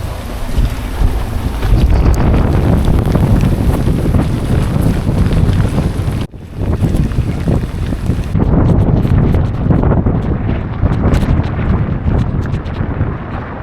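Strong wind roars and buffets across a sailing boat at sea off St. Martin, with rain and rushing water in a dense, loud, continuous wash that drops out briefly once before surging back.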